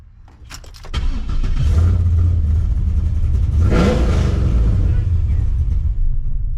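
A Gen 3 408-cubic-inch LS3 V8 with a big cam, warmed up to temperature, fires up and settles into a loud, lumpy idle that carries on steadily for several seconds, with voices talking over it.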